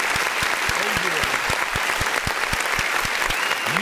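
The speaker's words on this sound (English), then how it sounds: "I want to go ahead and give you a round of" A crowd applauds continuously with dense clapping, while a few distinct low thumps and a brief voice stand out in the mix.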